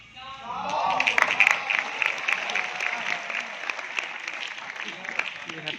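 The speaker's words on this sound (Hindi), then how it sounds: "आके ताली बजाइए" An audience at a biographical stage play about Madan Mohan Malaviya at Swatantrata Bhawan, BHU breaks into applause that swells quickly and holds at a moderate level, with scattered sharp claps and a murmur of voices underneath.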